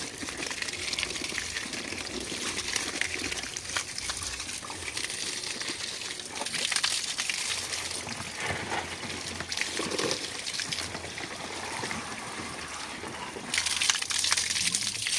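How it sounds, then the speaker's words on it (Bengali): Garden plants being watered on a hot day, a steady broadband hiss of spray and splashing water running continuously at moderate level, with brief louder surges, no talking. "আমি এখন গাছে জল দেবো।"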